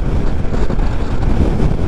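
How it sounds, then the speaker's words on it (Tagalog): Strong wind buffets the microphone during a motorcycle ride on a rural road in Mindoro past cornfields, a loud continuous low roar with no voices. "Lakas ng hangin."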